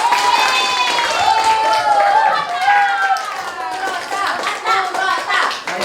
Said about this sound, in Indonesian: Kita berikan aplaus untuk semuanya